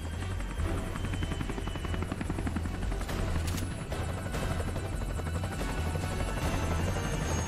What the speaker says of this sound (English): High speed attack helicopter.